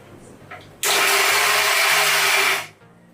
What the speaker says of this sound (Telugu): ఇది కూడా మిక్సీ పట్టేసుకున్నానండి.